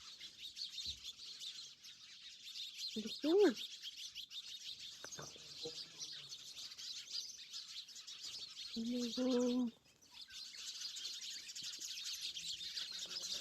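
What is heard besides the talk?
many small birds chirping indoors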